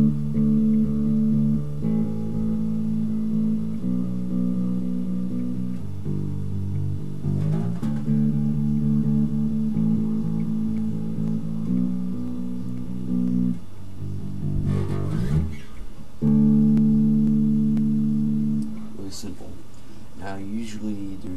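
Electric bass guitar playing a simple, steady repeating line from a song, sustained low notes changing every couple of seconds in a loud, continuous pattern with no talking.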